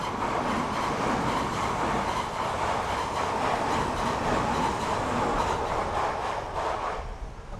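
A train passes close by outdoors near Yatoyama Park in Zama, Japan, a steady loud rumble with rhythmic wheel clatter holding for several seconds before beginning to fade at the end.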